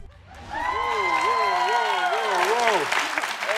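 An audience applauds and cheers loudly through most of the stretch while a singer's voice rises and wavers over the crowd noise.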